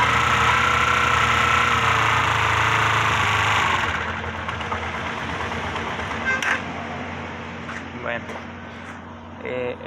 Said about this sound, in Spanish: subo las revoluciones y sube la carga de la batería.